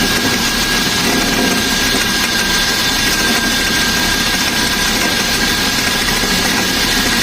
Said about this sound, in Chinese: 听发电机咯啦咯啦，这个水泵响吗？